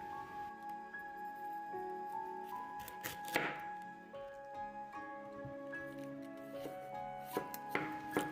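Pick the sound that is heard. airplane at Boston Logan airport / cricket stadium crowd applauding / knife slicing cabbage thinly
knife slicing cabbage thinly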